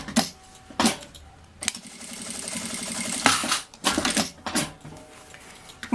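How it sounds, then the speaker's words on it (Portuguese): A sewing machine stitches a strap onto a child's backpack in short bursts of rapid mechanical whirring, separated by clicks and handling noises, close and moderately loud. "eu posiciono ela dessa maneira e passo uma costura aqui"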